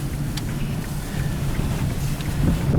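A strong gust of wind buffets the microphone from a moving vehicle, producing a steady, loud roaring rumble that swells toward the end.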